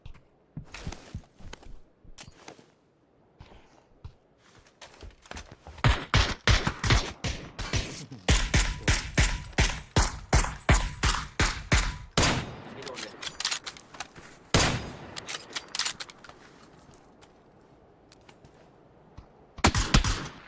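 Gunfire in the battle royale game PUBG: rapid volleys of automatic shots and dense bursts alternate with isolated single cracks, loud and close throughout, with short lulls between exchanges.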